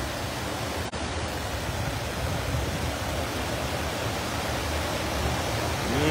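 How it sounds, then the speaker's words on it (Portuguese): Water roars over the spillway of the Araras reservoir during heavy overflow, a loud, constant broadband rush with no talk and no letup. "É jorrando água."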